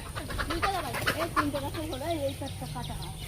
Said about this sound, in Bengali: বাবা, মুরগি তো উড়ে বেড়াচ্ছে।